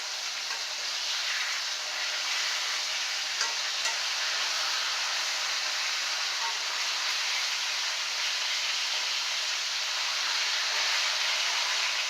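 Thin-cut chicken pieces fry in a pan of hot oil, a steady, bright, even sizzle that holds at a constant level throughout with no speech.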